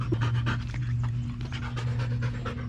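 A working dog at a French Ring Sport training session pants heavily and steadily, close and loud, with rapid rhythmic breaths running throughout and no talk.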